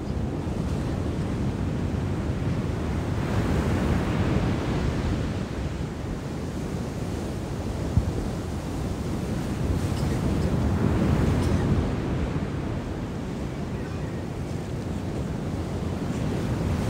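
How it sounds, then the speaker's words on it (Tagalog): Ocean surf on a beach at Cabangan, Zambales: a continuous loud roar of breaking waves that swells and recedes slowly, with heavy wind buffeting the microphone throughout. "Narinig ko yung alon."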